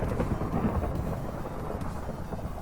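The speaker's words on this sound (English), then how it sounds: "we are in a thunderstorm now" Low, continuous thunder rumbles through a video game thunderstorm at moderate loudness, a steady rolling roar with no distinct claps or talk over it.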